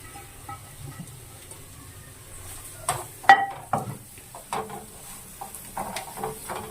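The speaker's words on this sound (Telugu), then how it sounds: "మనం ఇప్పుడు ఎగ్ అన్నది దీంట్లో వేసేద్దాము." An egg goes into a hot pan while Maggi noodles are being made. A quiet start gives way to a burst of crackling sizzle and some pan clatter, which keeps popping unevenly to the end.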